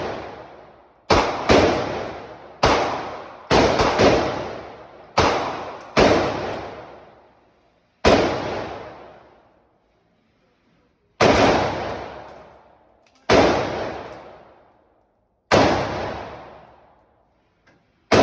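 Sig Sauer P320 pistol firing about ten sharp, loud single shots with uneven spacing, some in quick pairs and others more widely spaced, each one ringing out and decaying into short gaps.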